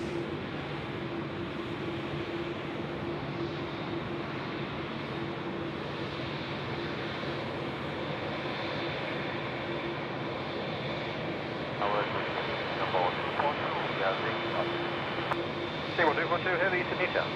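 Aircraft at Sydney Airport at night, a steady broadband roar of engines heard from a distance, continuous through the stretch and swelling slightly near the end, with someone talking over it.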